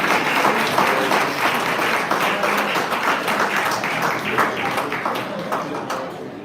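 A crowd at an awards gala breaks into loud, sustained applause, thick overlapping claps filling the room without letup for several seconds.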